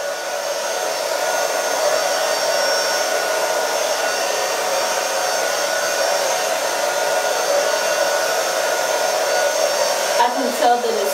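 A hair dryer blowing steadily and loudly at close range while hair is blow-dried straight, a constant whooshing drone with a brief shift in tone near the end.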